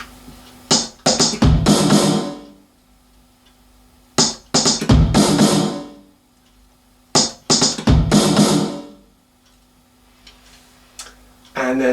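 Drum kit playing the beat of a song, with hi-hat, bass drum and snare struck together in three short loud bursts of hits separated by pauses, close and alone.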